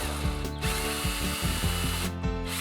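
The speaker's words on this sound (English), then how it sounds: "A wrench or a power drill is usually all that is needed." A power drill removing clamp bolts from a pool DE filter tank whirs in short bursts, its motor revving and winding down several times in quick succession, close and loud.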